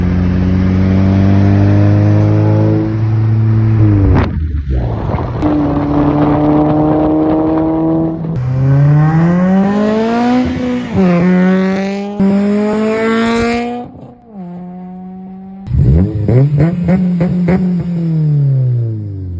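A Honda Civic Si engine fitted with PLM headers revs hard through several loud rising and falling sweeps, with brief drops between bursts, close and sustained.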